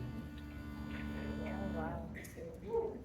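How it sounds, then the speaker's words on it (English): Three uilleann pipe drones resting across the lap hold a low, steady harmonic hum, and a brief higher note or murmur enters near the end. "But the drones sound like this."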